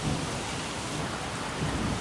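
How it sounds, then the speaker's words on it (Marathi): Heavy monsoon rain pours down in Uran near Mumbai, a dense, steady hiss of rainfall with a low rumble beneath it, continuous and even throughout. "उरणमध्ये मागच्या दीड तासांपासून पाऊस सुरू आहे"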